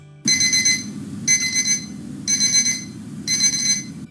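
An alarm tone played by a Python playsound script on a computer, sounding in four evenly spaced loud bursts of bright beeping, each about half a second apart, with no talking.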